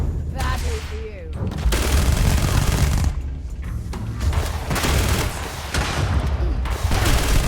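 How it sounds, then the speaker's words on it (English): Rocket launcher fire in the video game Starfield: loud, dense booming blasts and bursts of gunfire pile up continuously over the whole stretch, with a voice briefly heard among the explosions. "Oh, is that a fucking rocket launcher?"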